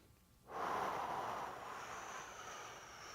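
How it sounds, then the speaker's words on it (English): Heavy, steady breathing through a core exercise with heel taps, a sustained breathy rush that starts suddenly after a quiet half second and continues close to the mic. "You can hear I'm actively breathing."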